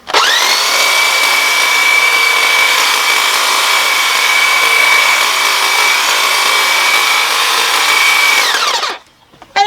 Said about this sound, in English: And now I will trim off the top.